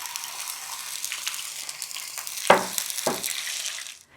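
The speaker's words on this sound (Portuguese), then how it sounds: "Refogamos a cebola até ela dourar." Onion sautéing in hot oil on a low flame for a tcholent, a steady broadband sizzle and crackle throughout with a couple of louder stir-like bursts near the end before it cuts off.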